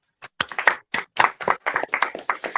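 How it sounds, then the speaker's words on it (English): An audience claps in a steady series of sharp, close hand claps, about a dozen distinct beats that thin toward the end, with no one talking over them. "Let's clap it up."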